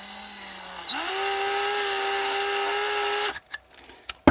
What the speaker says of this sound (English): wiggle your drill bit a little to elongate your hole.